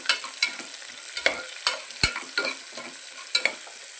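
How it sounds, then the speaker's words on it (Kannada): Onions fry in oil in a pan for palak rice, a steady sizzle broken by sharp scrapes and clatters as a utensil stirs them, close up with no voices. "ಎಣ್ಣೆ ಒಳಗೆ ಫ್ರೈ ಮಾಡ್ಕೋಬೇಕು ಉಳ್ಳಾಗಡ್ಡಿನ."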